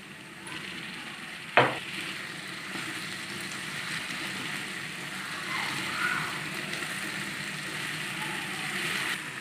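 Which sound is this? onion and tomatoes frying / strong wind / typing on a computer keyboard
onion and tomatoes frying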